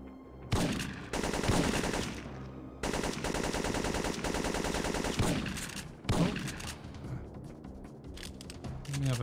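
Rapid automatic gunfire in the video game Syphon Filter 2, long loud bursts broken by short pauses and a few heavier single shots, with no voice over them.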